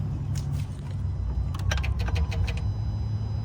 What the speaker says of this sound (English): you're going to hear the throttle actually moving